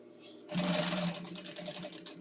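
Sewing machine stitching the top of a fabric pocket on a string backpack: a brief quiet pause, then a close rapid whirring chatter of needle strokes running steadily for under two seconds.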